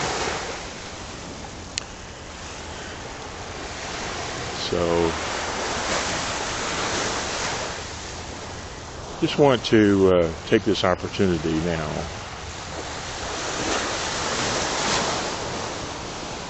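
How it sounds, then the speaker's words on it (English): Ocean waves wash onto the shore at Pompano Beach in the early morning, a loud, continuous surf roar with swelling rushes, and someone speaks briefly over it partway through. "for you to hear the ocean and not me"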